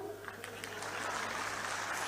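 Political rally audience applauding, a dense patter of clapping that starts moderate and swells into steady, fuller applause, heard at a fairly low level.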